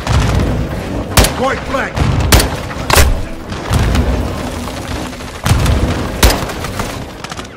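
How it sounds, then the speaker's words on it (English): Grenade blasts and bursts of gunfire boom in a Call of Duty Modern Warfare 2 firefight, several sharp heavy detonations spaced irregularly, loud and close, with soldiers shouting amid the chaos. "They're launching grenades!"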